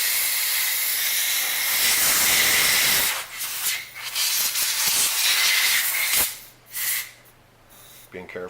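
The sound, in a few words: air blowing out a Remington 582 rifle's bolt receiver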